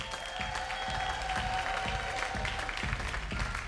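A church congregation applauds in a dense, sustained wash of clapping with crowd noise, steady throughout and backed by a faint tonal hum.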